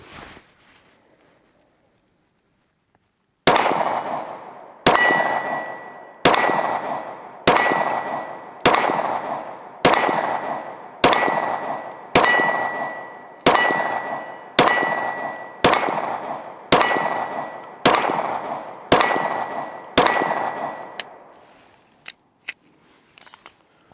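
A Springfield Hellcat Pro pistol firing cheap range ammunition at an outdoor range: a string of about fifteen loud, sharp shots at a steady pace of roughly one per second, each ringing out and decaying, followed by faint clicks.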